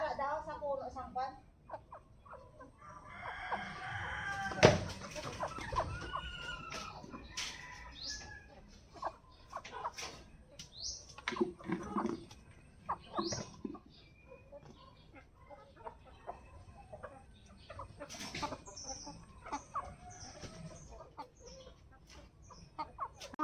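Chickens eating guava cluck and murmur close by through a long stretch, with scattered clucks and chirps rising and falling while a person talks softly among them.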